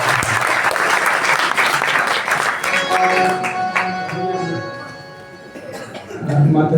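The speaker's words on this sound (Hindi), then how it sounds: "जोरदार तालियों से" Loud, dense applause from a crowd at an Arya Samaj Noida annual gathering that gradually thins out as a voice begins speaking over the fading claps.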